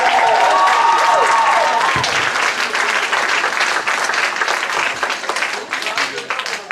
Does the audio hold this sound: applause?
yes